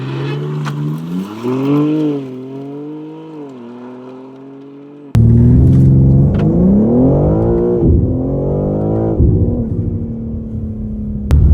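A BMW M sports car engine revs and pulls through the gears, loud and close, the pitch rising and falling with a sudden louder surge midway.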